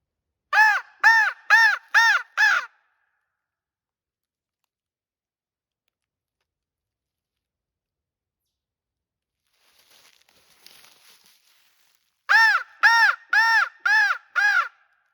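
A crow caws five times in quick, evenly spaced succession, loud and fairly close, then falls silent; after a stretch of faint rustling, another run of five rapid caws rings out just as clearly.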